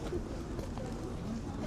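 Pigeons cooing outdoors in a Latvian town, soft low throaty calls that come and go faintly under a steady background murmur.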